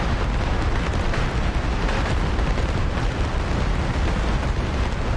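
Cluster bomblets detonate across a road convoy in a combat video game, a loud, continuous roar of overlapping blasts with no pauses and no voices.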